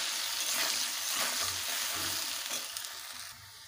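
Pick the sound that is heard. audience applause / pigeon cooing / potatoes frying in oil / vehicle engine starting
potatoes frying in oil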